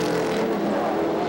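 A BMW M3 GTR E46 GT race car runs at Sonoma Raceway, its engine a loud, steady roar as it drives past on the track.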